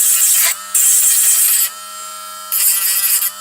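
A Dremel rotary tool grinds a plastic Ork miniature base flat, giving a loud, steady high-pitched buzz in three bursts with short pauses between them, no voices.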